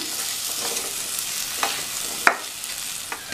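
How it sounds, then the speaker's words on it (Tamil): Chopped vegetables being sautéed in a pan for Tamil-style sambar, a steady close sizzle broken by a few sharp scrapes and knocks of a stirring spoon, with no voices. "இந்த காயையும் இதிலேயே நல்லா வதக்கி விட்டுக்கலாம்"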